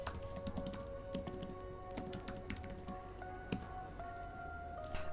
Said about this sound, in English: I'm just going to start typing this out.